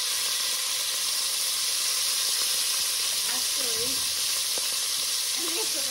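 Steady, loud sizzling and hissing of onions and beef frying in a pan for boeuf bourguignon, with faint stirring scrapes partway through.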